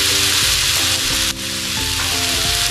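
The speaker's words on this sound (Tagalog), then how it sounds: "we're not going to saute it long, like making it brown" Squash sautéing in a hot pan for ginataang kalabasa gives a steady, close, loud sizzle and crackle with faint stirring scrapes throughout, and no voices.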